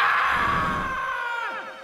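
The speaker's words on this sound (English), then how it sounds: "Not before you scream." A cartoon character in a Crash and Spyro TV crossover episode lets out a long, loud scream that trails off and wavers at the end, heard alone for about two seconds.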